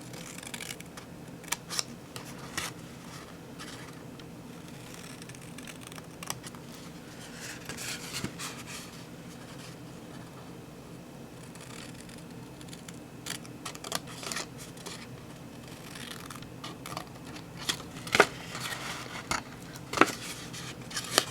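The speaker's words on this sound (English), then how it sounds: "We're just going to cut up to that first score line, and then I like to make a notch." Scissors cutting paper to a score line for a Christmas treat box, with repeated crisp snips and slicing strokes up close, irregular and sometimes in quick runs, no talking.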